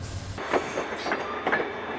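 The Amtrak Southwest Chief passenger train rumbles along the tracks with soft rhythmic clacking of wheels, steady and moderately close, with no voices.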